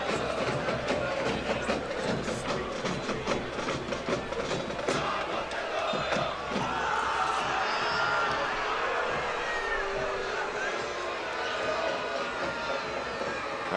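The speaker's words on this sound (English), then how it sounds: "Crowd not happy with the last couple of whistles." A soccer crowd at a San Diego Loyal SC versus Charleston Battery match reacts loudly and steadily to the referee's whistles, a dense roar of voices throughout with a commentator talking over it.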